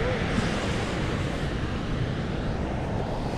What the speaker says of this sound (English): That wind is a little chilly, isn't it?